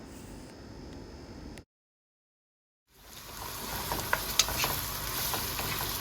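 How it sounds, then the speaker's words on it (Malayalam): Chopped shallots sizzle and crackle in hot oil over a high flame for a Kerala beef peralan, a steady close frying hiss that cuts out for about a second and returns stronger with stirring scrapes, no talk. "നമുക്കിനി ഇതിലേക്ക് അരിഞ്ഞു വെച്ചിരിക്കുന്ന ചെറിയ ഉള്ളി ഇട്ട് കൊടുക്കാം"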